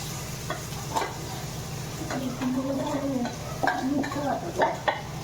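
Spoon stirring soaked sago pearls into pan-fried potatoes for sabudana khichdi, soft scraping and clinking strokes against the pan with light sizzling, close and moderately loud.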